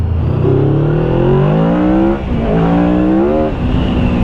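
A Yamaha V-Max motorcycle engine revs hard and close, its pitch climbing in long sweeps, dipping briefly, then rising again under sustained throttle.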